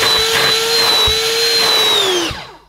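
A Gtech K9 AirRam cordless vacuum cleaner with its motorized head runs at a steady high-pitched whine for about two seconds, then winds down as it is switched off, loud and close with no talk.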